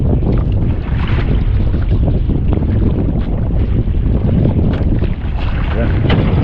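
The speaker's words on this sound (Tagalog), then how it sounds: "Ang ganda ng minor ng makina ngayon mga kabugoy" A boat engine idles after its carburetor has been cleaned, a loud continuous rumble mixed with wind buffeting and water noise throughout.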